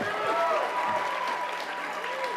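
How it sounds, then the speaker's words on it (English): Audience applause at a Braille Challenge award ceremony, a steady wash of clapping throughout, with a voice faintly audible over it. "Another round of applause for Kennedy."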